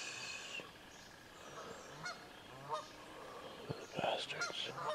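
Several geese honk in scattered bursts, the loudest calls toward the end, against a noisy outdoor background at night.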